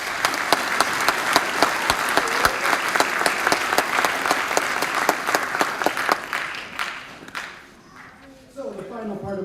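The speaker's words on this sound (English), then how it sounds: "So give your kids one more round of applause." A school audience at a sixth-through-eighth-grade band concert gives a dense, sustained round of applause that fades out near the end, followed by a person starting to speak.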